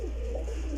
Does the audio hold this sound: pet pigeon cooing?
yes